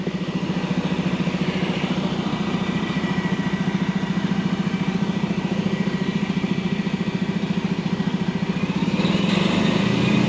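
A truck engine idles steadily and rises slightly near the end as it is revved to raise a dump box. It sounds close, loud and continuous, with no talking.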